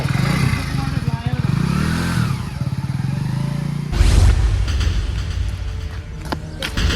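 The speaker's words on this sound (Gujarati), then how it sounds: "ક્યાંક બાઇક લઈને તો ઓડ્યા જ છે બાજુથી જ" A motorbike passes close by on a street, its engine rising then dropping away over a few seconds amid background chatter and clatter, with people talking nearby.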